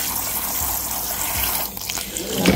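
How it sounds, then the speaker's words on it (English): Cold tap water runs steadily over cooked noodles in a sink, a close continuous splashing stream that changes tone briefly near the end. "I'm just gonna run some cold water into it for a few seconds."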